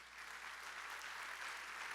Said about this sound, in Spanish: Dale a Dios un aplauso por eso